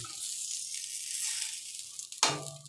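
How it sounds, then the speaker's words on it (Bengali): Potatoes go into hot oil left over from frying fish, with a steady hiss of sizzling throughout and a sudden louder crackle and spatter near the end, close and alone. "এবার এই তেলে আলুটা ভেজে নেব।"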